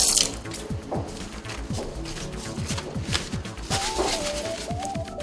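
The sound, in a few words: patient washing hands at a sink tap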